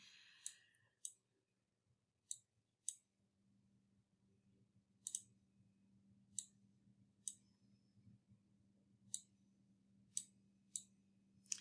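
Computer mouse buttons give crisp, close clicks, some as quick double clicks, spaced irregularly over a quiet low electrical hum while someone works with infographic templates in Canva.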